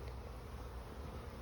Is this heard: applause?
no